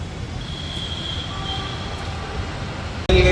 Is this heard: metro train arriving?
yes